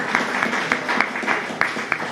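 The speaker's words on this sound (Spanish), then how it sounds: "Entonces también aplaudámoslo." Church congregation at a Sunday service clapping for a birthday, a dense patter of many hands with a few sharper claps standing out, steady for about two seconds.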